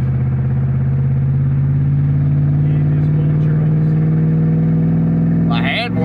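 A car engine drones steadily and loudly at close range for several seconds, the low hum holding even before a brief rattle at the end.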